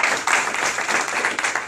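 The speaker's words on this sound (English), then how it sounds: "You can applaud for that." A crowd at a political breakfast claps continuously in dense, even applause that fills the room, fairly loud and without a break.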